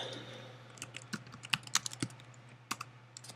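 Computer keyboard keys tapped while writing an AppleScript, irregular clicks in short bursts with pauses, close and fairly quiet over a steady low hum, no voices.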